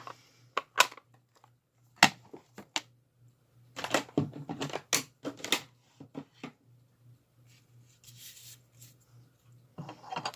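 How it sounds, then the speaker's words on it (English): Scissors cutting through a paper banner at a stamping and card-making craft table, giving a series of sharp, irregular snips and rustles with short pauses between them, close and fairly quiet over a low steady hum. "Go ahead and cut the banner."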